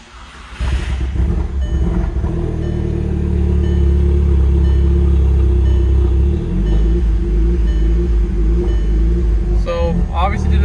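A car engine cranks and catches in a repair shop, then settles into a steady, loud, low rumbling idle that runs on without revving.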